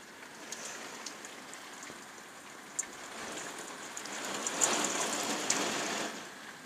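Heavy rain pours steadily during a violent thunderstorm in Carpentras, Vaucluse, a dense continuous hiss of drops on surfaces that swells a little louder midway, with a few sharper individual drop impacts and no voices.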